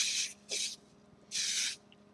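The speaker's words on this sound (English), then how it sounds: "Point being, just take some freaking hairspray," Hairspray sprayed onto hair for a heavy-metal makeup look: three short, bright aerosol bursts, the middle one briefest, each hissing loudly against a quiet background.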